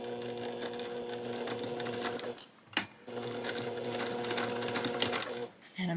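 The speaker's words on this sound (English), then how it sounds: "And I'm just going to stitch straight until I get to the corner." A sewing machine runs in steady stretches as it stitches fabric forward and backward, with a brief pause in the middle as the direction changes, then carries on steadily. It is close and fairly loud, and no one speaks during it.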